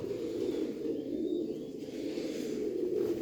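A steady low cooing drone comes from Kart pigeons of the Dumanlı line, close and continuous over a soft background hum, with no talking.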